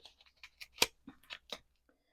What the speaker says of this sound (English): if I cut the outside, and then I can trim away the excess